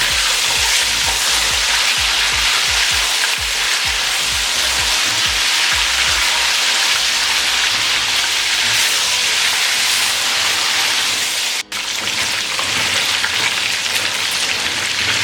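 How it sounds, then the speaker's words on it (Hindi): Half a kilo of chicken frying in a pot for biryani, a loud, steady hiss and sizzle that fills the whole stretch, with a brief break near the end and no talking. "अब इसमें आधा किलो चिकन ऐड करेंगे। और इसको 3 से 4 मिनट के लिए अच्छे तरीके से फ्राई करेंगे।"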